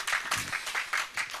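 Brief, faint bursts of audience clapping at an Independence Day poetry gathering, a few uneven pulses heard from a distance.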